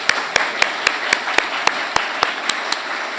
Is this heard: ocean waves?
no